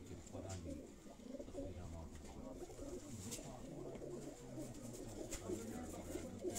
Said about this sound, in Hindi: सारे परवाजी कबूतर हैं जी।